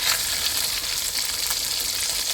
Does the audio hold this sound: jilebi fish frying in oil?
yes